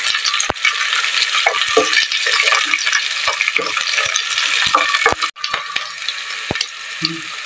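Onion and green chili frying in a pan for a squid dish with pechay and radish, a loud, close, continuous crackling sizzle broken by sharp clicks and scrapes of stirring, no voices.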